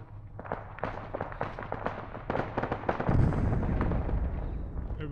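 A charge detonates in the Arma 3 video game after a fire-in-the-hole warning, a sharp burst of cracks and bangs that swells into a loud, sustained rumbling blast.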